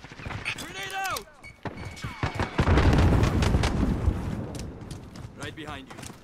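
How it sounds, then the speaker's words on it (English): A grenade blast in an online shooter game erupts into a loud, rumbling boom that lingers for seconds, with chattering voices and squeaky sounds before it. "Grenade out!"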